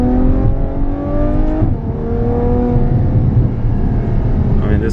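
A Ferrari F12 Berlinetta V12 revs loudly while driving, its engine note climbing and falling in smooth sweeps, heard up close from inside the car.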